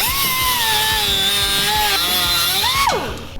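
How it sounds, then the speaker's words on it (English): Power tool cutting through part of a bolt on a Dodge truck: a loud, steady, whining cut held close up for about three seconds, then the pitch slides down as the tool winds off. "we're gonna have to cut this part of the bolt off"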